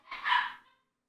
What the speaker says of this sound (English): If you hear my dogs in the background